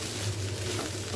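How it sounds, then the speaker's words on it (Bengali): Food frying in a pan over high heat, a soft, steady sizzle that stays faint and even for a brief moment, with no voices. "কয়েক সেকেন্ড এটাকে ভেজে চুলাটা অফ করে দেবো। আর অবশ্যই এই সময় কিন্তু চুলার আঁচ হাই থাকবে।"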